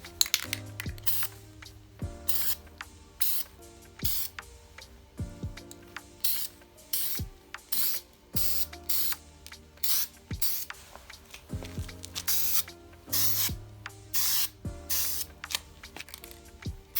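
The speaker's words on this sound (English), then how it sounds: "I'm going to be spray painting my Wydonna body white" An aerosol spray paint can coating a doll body white in repeated short bursts of hissing spray, separated by brief pauses and faint mechanical clicks, close and fairly quiet.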